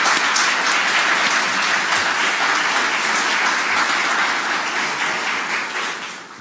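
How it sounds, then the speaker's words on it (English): Sustained audience applause, dense steady clapping from a large crowd that holds for several seconds and then begins to fade toward the end. "Let's give them all a big round of applause."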